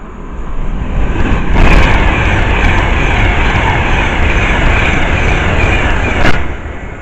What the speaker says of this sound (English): Train pass by will be a Avanti 390